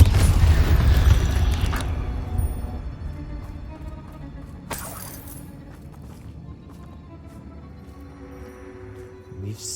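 A booming Confringo spell blast in the wizarding game Hogwarts Legacy, a loud low-heavy burst at the start that rumbles and decays, followed by a sharp crack midway and quieter clattering ambience.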